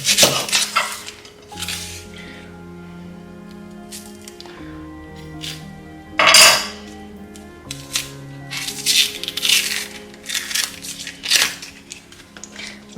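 Food being chopped with a knife on a board for curried pumpkin soup, irregular knife thuds and crunches over soft background music, some strokes in quick bursts and one louder heavy chop.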